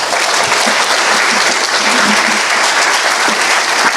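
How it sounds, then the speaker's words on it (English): An audience at a student leadership graduation applauds steadily, a dense wash of clapping that fills the room without pause. "hopefully you guys help me and applaud for Dr. Tara Rios"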